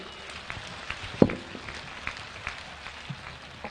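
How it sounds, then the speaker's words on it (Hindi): Audience at an outdoor Teja singing and bhajan evening in Sangaliya applauds wrestler Bajrang Punia, Tokyo Olympic bronze medallist, with a steady patter of scattered claps and one sharper loud clap near the middle, fairly distant and soft. "एक बार बजरंग जी के लिए जोरदार तालियां।"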